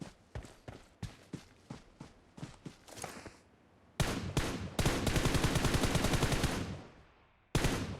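Gunfire in PUBG Mobile: a string of sharp single shots spaced apart, then a loud sustained automatic burst with rapid rhythmic cracks, silence, and another burst cutting in at the end.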